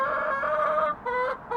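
Backyard chickens in a coop with roosts, close and loud, giving drawn-out clucking calls in two quick phrases with a brief gap between them.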